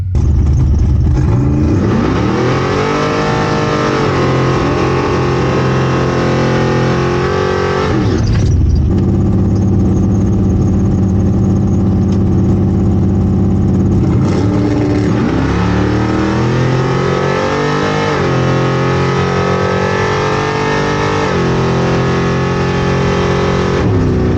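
A Chevrolet El Camino drag car launches at the strip, engine loud and close as it revs hard through rising gear pulls, briefly drops between shifts, then climbs again in sustained roaring acceleration.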